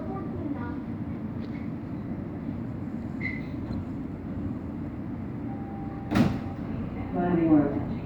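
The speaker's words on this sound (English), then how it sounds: "Doors will open on the right." A Toronto TTC subway train's doors open at Spadina Station, with a sudden sharp burst and then a rattling slide near the end over a steady carriage hum, while an announcement voice speaks.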